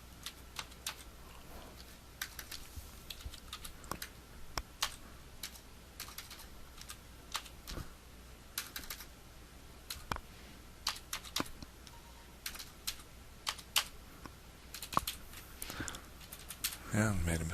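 Steady typing on a computer keyboard while figures are entered for a reciprocal-method cost calculation, with irregular clusters of sharp, close key clicks throughout and a few louder strokes near the end.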